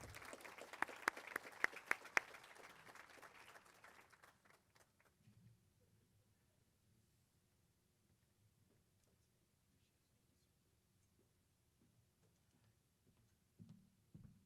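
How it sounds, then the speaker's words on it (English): An audience at a regional economic summit in Hemet gives a faint, scattered round of clapping for a county supervisor, lasting a few seconds before fading into near silence with a little distant shuffling. "Round of applause,"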